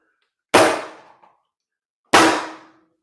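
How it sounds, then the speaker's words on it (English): A hammer struck hard against a solid object twice, each blow a sharp loud clang with a ringing decay, the two hits about one and a half seconds apart, no talk. "Now I'm going to really hit it."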